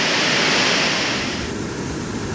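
A rainforest waterfall roars as steady broadband rushing water, loud and close, easing slightly after the first second and continuing alone with no voices.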